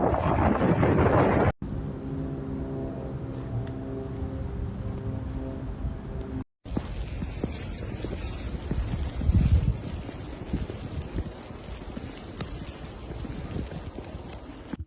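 Strong gusts in a heavy snowstorm in New York and Ontario roar and buffet the microphone in a continuous rumbling rush, broken by a few abrupt cuts.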